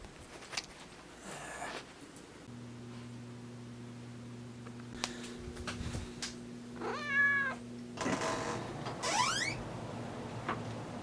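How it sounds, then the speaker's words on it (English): A black cat meows outdoors in warm weather, two rising, tonal calls about two seconds apart near the end, over a steady low hum and scattered background noise. "He's got this black cat"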